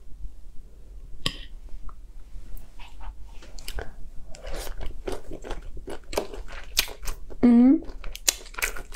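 Close-up crunchy bites and chewing of boiled vegetable salad dressed with oil-and-vinegar vinaigrette, irregular crisp crunches in quick succession, with a brief vocal murmur partway through.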